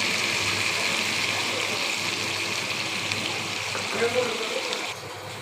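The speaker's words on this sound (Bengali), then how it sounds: "জল দিয়ে দিলাম গরম জল দিয়ে দিচ্ছি" Hot water pours steadily into a simmering pot of country chicken curry, a continuous close rushing splash that eases off near the end.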